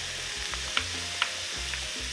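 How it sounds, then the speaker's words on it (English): Onions frying in a pan for tacos, a soft steady sizzle with a few sharp clicks of utensil against pan, quiet and close. "I'm just going to cook my onions some before I add the sauce packet"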